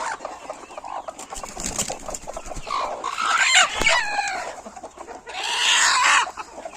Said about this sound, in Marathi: प्युअर गावरान कोंबड्या असतात